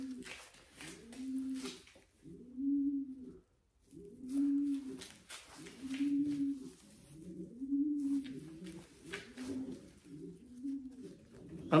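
A blue bar racing pigeon coos in a steady series of soft, low, rolling calls repeated every second or so, close by, with faint rustling in between and no talking.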